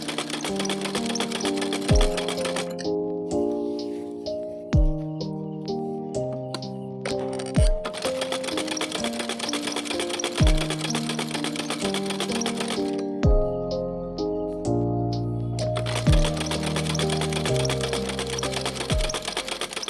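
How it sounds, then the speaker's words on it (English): A sewing machine runs a straight stitch along a satin strap, its motor whirring in steady rapid runs with brief pauses between, close and loud, alongside background music and no speech. "Now sew along the entire length of the strap using a straight stitch."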